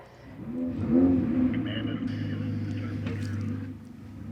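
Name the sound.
Ferrari Challenge race car engines starting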